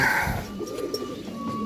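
Pigeons at a pigeon sale in Shahdara, Lahore, giving soft low coos against a busy background hum, moderately close.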